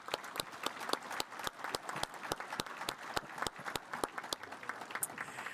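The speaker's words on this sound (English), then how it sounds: "Let's give Willowbunch another round of applause." Audience applause at the 2022 SUMA Convention, a Saskatchewan municipal awards ceremony, honouring Willowbunch: a steady, moderately distant patter of many hands clapping together, with a few sharper individual claps standing out through the whole stretch.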